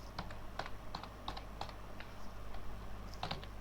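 Close, steady typing on a computer keyboard sounds as a string of light, evenly spaced key clicks with a few short gaps. A faint hum sits underneath and nobody speaks.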